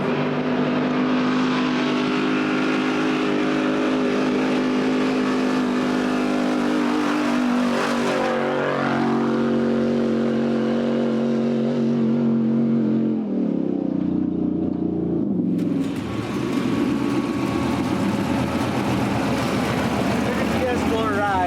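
A Humvee engine labors up a steep sand hill, a loud sustained drone with shifting pitch that surges and changes tone partway through; people talk over it.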